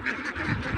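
Ducks quack on a Bangladeshi duck farm, a continuous overlapping chorus of many birds, fairly close and steady throughout with no talk.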